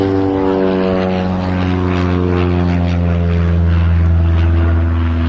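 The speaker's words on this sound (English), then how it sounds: "those planes are going nuts today" Propeller airplanes drone steadily overhead outdoors on a spring morning, a loud continuous engine hum with a rich layered tone that swells slightly as one passes, no talk.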